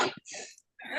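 A person on a Zoom call gives a short, close, rough cough or throat clearing, a few quick bursts within one second with brief silences between.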